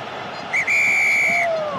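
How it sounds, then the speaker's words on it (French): A rugby referee's whistle at the Top 14 final between ASM Clermont and Stade Français, one short blast followed by a long sustained shrill blow, loud over a steady stadium crowd roar. "Monsieur Geyser joue du sifflet parce que ça ne s'arrête pas"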